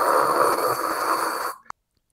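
A voice imitates a jammed comlink with a harsh, breathy static hiss lasting about a second and a half, then breaks off with a faint click.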